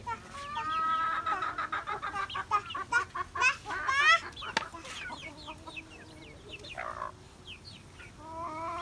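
Chickens being fed at home cluck and squawk up close in a busy run of short, overlapping calls, loud and lively with a few longer cries, no talking.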